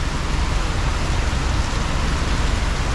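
Heavy rain pours steadily onto a garage, a dense, loud, unbroken hiss of drumming water with no gaps or other sounds.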